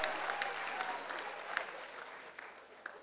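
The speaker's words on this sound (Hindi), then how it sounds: "तालियों से एक बार अभिनंदन व्यक्त करें।" An audience at a herbal care product training event applauds steadily throughout, a dense, moderately distant patter of many hands with a few sharper claps standing out.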